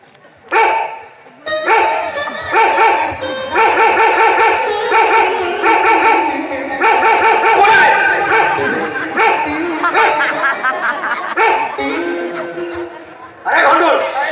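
A performer in a folk stage show imitates a barking dog, voicing loud, close, repeated yapping barks and whines in quick succession, alongside other voiced sounds.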